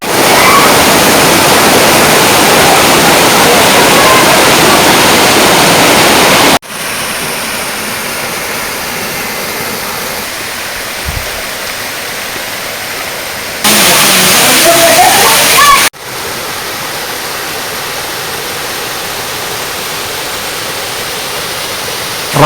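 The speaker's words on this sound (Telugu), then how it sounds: "ఆంధ్రప్రదేశ్లో ఉన్న జలపాతాలలో రంప జలపాతం ఒకటి." Rampa waterfall in the Maredumilli forest area of Andhra Pradesh, a steady broadband roar of falling water that runs loud and continuous throughout, dropping in level for stretches and swelling again near the end.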